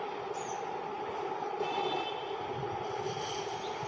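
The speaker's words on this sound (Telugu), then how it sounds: "వచ്చిందమ్మా ట్రైన్ ఇంకా ఇదిగో" A train passes near a small home garden, a steady low rumble with faint metallic squeals, continuous and moderately distant, with no talking.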